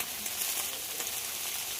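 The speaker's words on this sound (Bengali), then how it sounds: "আলুর সঙ্গে শিম বরবটি খুব ভালো করে ভেজে নিতে হবে।" Potatoes, flat beans and yardlong beans fry together in a pan, making a steady, even sizzle that runs throughout with no pauses and no voices.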